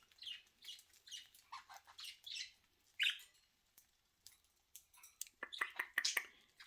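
Pet budgies chirp and squawk in a home in the morning, with bursts of sharp, bright calls and chatter coming in quick clusters, close and fairly loud, with no talking.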